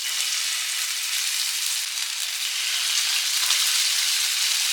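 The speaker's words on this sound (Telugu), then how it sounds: "ఇప్పుడు మనము ఈ ఫిష్ ముక్కలు ఈ ప్యాన్లో ఎంతవరకు సరిపోతాయో అంతవరకు వేసుకొని ఫస్ట్ ఫ్రై చేసుకుందాం" Flounder fish pieces frying in hot oil in a pan, a steady loud bright sizzle with no pauses and no voices.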